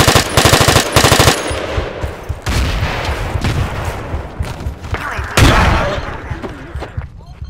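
M249 support machine gun fire in Battlefield 2, loud sustained bursts of rapid automatic shots at close range, with further volleys and impacts trailing through the middle and a heavy burst near the end.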